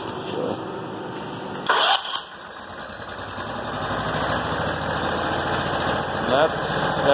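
John Deere 212 garden tractor engine cranking, catching with a couple of loud bursts, then settling into a steady, close, rapid idle that rises slightly and keeps running; someone speaks briefly.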